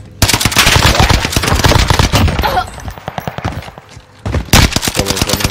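Dense automatic gunfire in the video game Modern Warfare 2 rattles in loud rapid bursts, easing off briefly before another burst, with faint voices under the shots.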